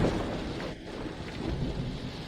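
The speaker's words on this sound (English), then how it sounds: "It's bad enough that Yangcheng is raining." Steady heavy rain with a low rumble of thunder underneath, dense and continuous throughout, with no voices.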